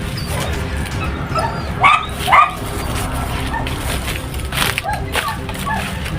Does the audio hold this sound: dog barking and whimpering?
yes